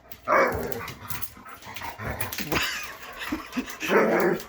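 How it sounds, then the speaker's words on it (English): A salty, attitude-filled black dog barks and grumbles close by in a few loud, gruff bursts, with a person's voice mixed in. "I actually have a dog who's pretty salty, highly full of attitude."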